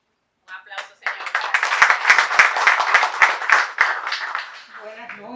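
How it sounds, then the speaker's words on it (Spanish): Applause from a live audience at an evening networking gathering, a steady wash of many hands clapping that swells and holds for several seconds before tapering, with voices murmuring over the tail end. "Un aplauso, señor."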